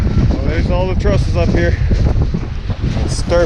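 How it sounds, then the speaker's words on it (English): Strong wind buffeting the microphone on a house-building site with roof trusses, a loud continuous low roar with gusty surges, while someone talks over it. "It's too windy today."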